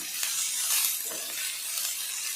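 Sliced onions sauté in a hot pan for a quick egg-and-onion tiffin, giving a steady bright sizzle with a few soft stirring scrapes over it and no talking.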